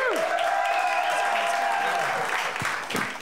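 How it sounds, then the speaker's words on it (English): A live studio audience bursts into loud, sustained applause for a head writer at a comedy show, with a whistle or whoop riding over the clapping before it thins slightly toward the end. "Please give a big round of applause for our head writer, Matt Nightingale."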